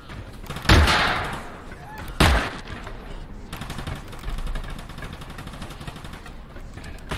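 A revolver in Totally Accurate Battlegrounds firing all six bullets: two loud, booming shots spaced about a second and a half apart, each with a short ringing tail, followed by quieter rattling game noise.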